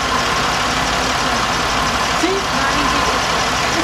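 A 3.4-litre engine in a 2004 Chevy Monte Carlo idles quietly and steadily, a low even hum with a faint belt whir, heard up close with no other sound standing out.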